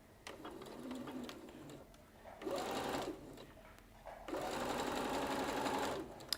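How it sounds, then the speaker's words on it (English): A domestic sewing machine with a normal foot stitching around a quilted bag, running in close whirring bursts with a steady mechanical rhythm, pausing briefly between longer runs. "I'm going to stitch around here just with my normal foot and normal kind of seam allowance and normal stitch."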